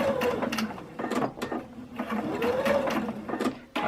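A sewing machine stitches a pocket onto a skirt refashioned from a men's polo, its needle chattering in quick, steady bursts close by with brief pauses between runs of stitches.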